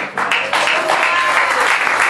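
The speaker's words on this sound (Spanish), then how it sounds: "Denle un aplauso al Señor." A church congregation applauding during a Spanish-language service, loud dense clapping that swells quickly and holds steady to the end.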